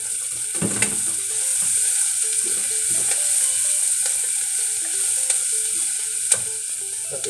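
Garlic dropped into a hot pan and frying, a steady sizzle with scattered clinks and stirring scrapes of a utensil against the pan, close and alone with no talk.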